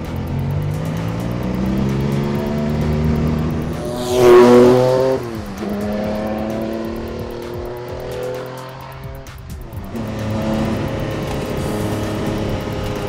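Porsche 962 Le Mans race car with a turbocharged engine, driven hard on track: a steady loud engine drone that swells as revs climb, with gear changes, a surge near the middle and a brief dip later.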